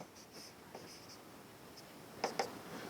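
Chalk or marker scratching across a classroom board during a maths lesson: a few faint strokes, then two sharper, closer scrapes, with quiet room tone and no talking.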